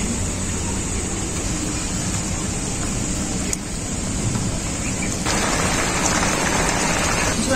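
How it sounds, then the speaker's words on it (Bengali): Fish curry gravy bubbles hard in a pan, a dense, steady sizzling hiss like rain that carries on throughout, loud and close, with a brief dip midway before it resumes. "ঝোলটা খুব ভালোভাবে ফুটে গেছে"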